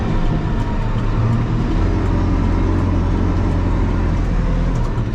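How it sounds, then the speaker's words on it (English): A backhoe loader's diesel engine droning loud and close while downshifting on a curvy mountain road, a steady low rumble with no pause. "And we just downshift here."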